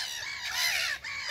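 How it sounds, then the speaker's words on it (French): A gull-like bird with a black head gives a faint, harsh squawking call, a drawn-out rasping cry followed by a short second note after a brief gap, heard on its own without voices. "Une sorte de mouette avec la tête noire, je sais pas trop."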